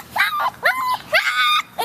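A female puppy lets out a series of high, rising whimpers and yips, four or five close, loud cries in quick succession.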